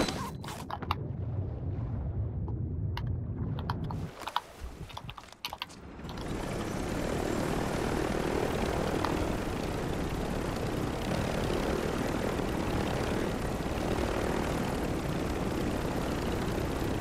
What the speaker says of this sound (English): these helicopters suck though